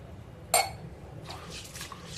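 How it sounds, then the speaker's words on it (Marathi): Water is poured into a bowl of dried broad beans to wash them, with a sharp clink of the vessel followed by soft, faint splashing and sloshing. "त्या वालांमध्ये पाणी घालायचं"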